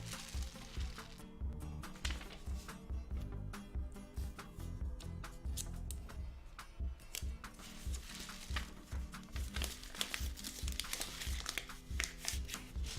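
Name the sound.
paper crinkling while sealing a homemade rain stick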